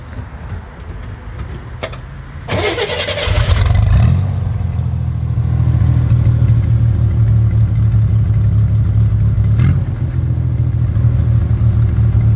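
An air-cooled Chevrolet Corvair engine at a Corvair homecoming in Ann Arbor, Michigan cranks briefly, catches and settles into a loud, steady close-up running drone.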